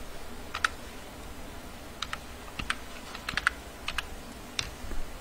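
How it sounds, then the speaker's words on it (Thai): Typing on a computer keyboard while entering text into a document, heard as scattered, uneven clicks and key taps, fairly close and moderately quiet over a faint room hum, with no talking. "ก็ลองพิมพ์ข้อความนะเช่น คัดไทยนะครับ"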